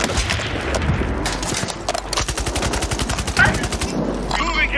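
Heavy gunfire in Call of Duty Warzone, with rapid automatic bursts firing in a fast regular rhythm, loud and close, mixed with booming impacts and brief game sounds.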